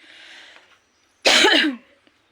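One short, harsh cough from a child bursts out close by after a faint hiss, with quiet before and after.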